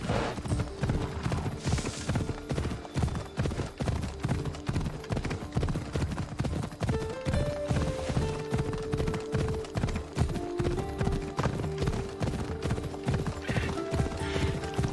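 Horse hooves in Assassin's Creed Odyssey, a rapid steady clip-clop of a galloping mount with a faint whinny, layered over game music, with no speech.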